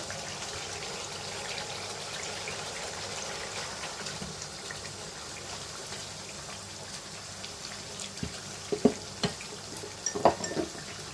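Mutton mince going into fried masala in a cooking pot gives a steady sizzling hiss, with a few sharp clinks and scraping knocks of a utensil against the pot near the end.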